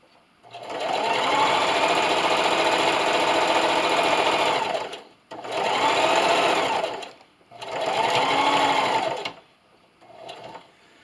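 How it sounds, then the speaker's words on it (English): Sewing machine stitching a fleece hat in three long steady runs of rapid mechanical whirring, close and loud, separated by short pauses, with a brief final burst at the end. "And then just keep sewing until you get to that 2-inch mark."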